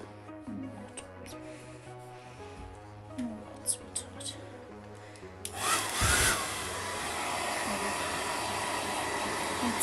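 A hair dryer starts abruptly and roars steadily up close while it dries a dog after its bath, following a quieter stretch of background music and small handling sounds.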